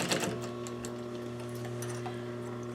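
A sewing machine runs steadily as it stitches the seams of a chair slipcover, giving a quiet, even whir with a fine rapid ticking and a constant motor hum throughout.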